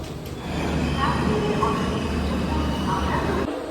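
A Puri–Shalimar special passenger train rumbles steadily and loudly while pulling into Santragachi, a continuous close rail drone with faint wheel noise and no speech.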